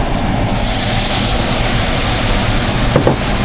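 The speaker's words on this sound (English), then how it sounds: "And then I'm just going to throw some milk in here." Milk pours into a pan of cream gravy for chicken fried steak, a steady, close rushing hiss that runs unbroken from start to finish with no voices.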